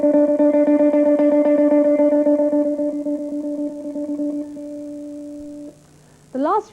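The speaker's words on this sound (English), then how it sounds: "you can also use the plectrum to control the volume, simply by deciding how hard to strike the strings" Electric guitar struck with a plectrum at changing strength to shape volume: a steady repeated picked note pattern that gradually fades softer, then a short brighter strum at the end.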